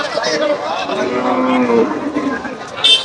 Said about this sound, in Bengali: প্রচুর পরিমাণে গরু বেরোচ্ছে